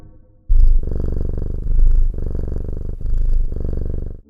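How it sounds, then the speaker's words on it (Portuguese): A domestic cat purrs steadily and loudly up close, its rumbling pulses swelling and easing in rhythm with each breath, with no other sound around it. "Por que os gatos ronronam?"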